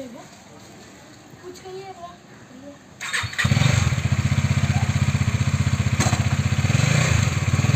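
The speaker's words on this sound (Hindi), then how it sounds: "आज मेरे पापा गाड़ी चलाने वाले हैं, बिट पिलियन 250" A Husqvarna Vitpilen 250 motorcycle starts up partway through and settles into a loud, steady close-range engine run, with someone talking quietly before the engine catches.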